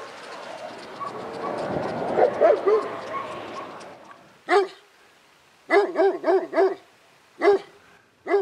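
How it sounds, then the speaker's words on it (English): A Great Pyrenees guarding sheep in central Utah gives several loud, separate warning barks in short bursts after a stretch of rougher, murky growling and rustling noise. "That bark is a warning. The Great Pyrenees letting us know we don't belong here."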